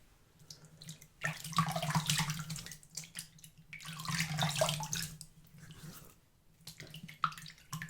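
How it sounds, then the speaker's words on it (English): Warm water from a basin splashes against a face during rinsing after a shave with a double edge safety razor, in close, soft bursts of sloshing and dripping with brief pauses between scoops. "Now, we'll rinse our face off just with the warm water that we've got in the basin."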